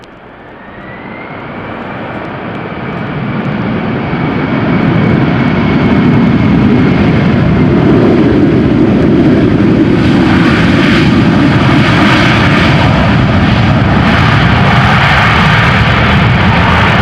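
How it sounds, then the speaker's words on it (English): Airliner landing at Amsterdam Schiphol in gusty crosswinds after a storm, with thrust reversers deployed: a jet roar that swells from moderate to loud and holds as a steady, sustained rumbling whoosh, fairly close. "Let's see how it lands. Let's listen to it. Let's see what the reversers will be like."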